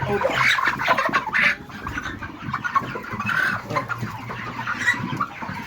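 A flock of 42-day-old broiler chickens clucks constantly and close by, with overlapping calls and some louder bursts, and no voice over them.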